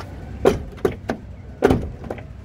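Door of a black 2014 Isuzu D-Max LS Turbo pickup being worked: several close, dull thuds and latch clunks in uneven succession over a couple of seconds, with no talking.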